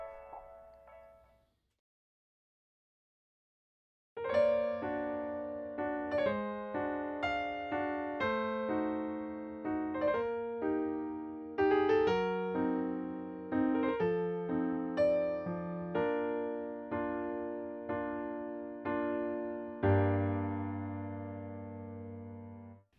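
Solo piano plays the intro to a song, a series of broken chords under a steady melody, heard close and alone after a short note and a brief pause.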